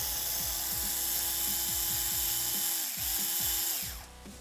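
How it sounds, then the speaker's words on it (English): A screw gun drives a screw into a plastic part of a Traxxas X-Maxx RC truck, its motor whirring in rapid repeating pulses that wind down at the end. "So I like to use a screw gun to get it most of the way down."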